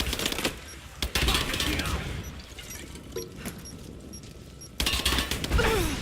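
Heavy gunfire in the video game Rise of the Tomb Raider, a dense continuous fusillade of rapid shots with sharp bursts and louder volleys at the start and end, close and loud, with occasional voices shouting through it.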